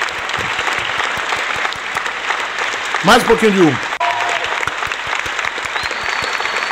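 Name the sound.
applause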